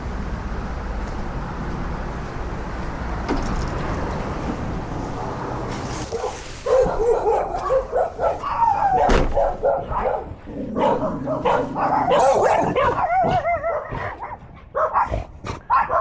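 Puppies bark and yip in loud, irregular bursts near a parked car, following a quieter stretch of low engine hum.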